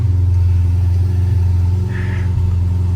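A Ferrari sports car idles while its engine warms up on a Sunday morning in an enclosed hotel courtyard, producing a loud, steady low rumble close by with a slight rise in pitch partway through.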